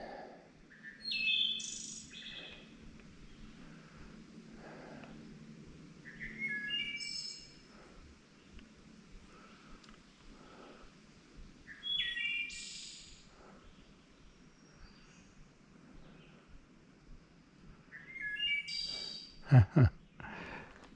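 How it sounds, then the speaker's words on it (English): Wild songbird singing beside a mountain trail between Flint Mountain Shelter and Sam's Gap, bright chirping phrases repeating every few seconds at moderate distance, with quiet ambient hush and a couple of sharp knocks near the end. "Just listening to that bird for a minute."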